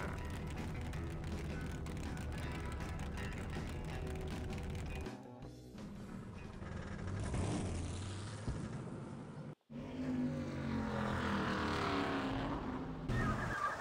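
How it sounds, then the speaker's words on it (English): A video game car engine in Grim Fandango revs and whines steadily, rising and falling with skidding tones, loud and continuous with no talking. "It's just making car noises as he's sitting."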